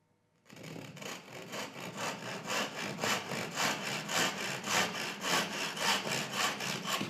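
A hand saw cuts a tenon in a wooden slat for a towel rack, rhythmic rasping strokes back and forth, steady and close, starting after a brief moment of quiet.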